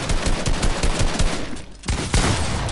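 Rapid pump shotgun blasts in the video game Fortnite sound in a loud, dense burst, several shots crowding together with a brief gap before more firing.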